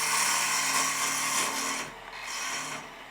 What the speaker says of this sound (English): I'm taking half a tool width relief cut next to it.